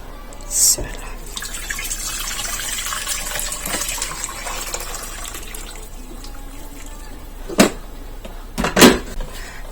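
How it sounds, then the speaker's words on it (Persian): Half a litre of boiling water poured into a pot for baked pasta, a steady trickling, splashing flow in the kitchen with a few louder clinks and knocks near the end, close by. "ما اول میخوایم نیم لیتر آب جوش در این ظرف علاوه کنم."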